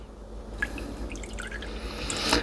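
Rendered beef tallow from brisket fat trimmings drips and trickles through a strainer, with scattered drops landing close by over a low steady background.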